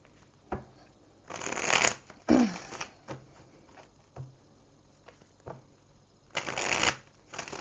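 Tarot cards being shuffled in several short riffling bursts, close and crisp, separated by quiet pauses with a few light taps and handling sounds.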